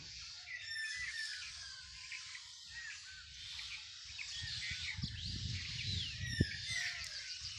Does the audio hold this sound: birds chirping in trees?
yes